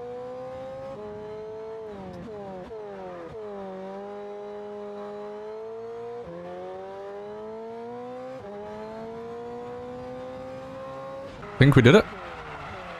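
McLaren race car in a racing video game, its engine droning steadily with rising and falling revs as it drifts through corners, under continuous talk, with a brief loud burst near the end.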